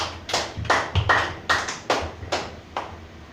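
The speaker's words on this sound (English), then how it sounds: "Clap your hands together for Jesus." Congregation clapping hands at a Sunday church service, about eight sharp, fairly loud claps in a loose, uneven rhythm, close and alone with no voices.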